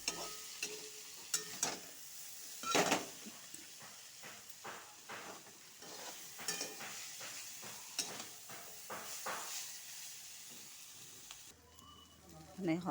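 Bitter gourd is stirred in a pan as the water cooks off, with repeated spatula scrapes and knocks over a soft sizzle, fairly close and moderately quiet.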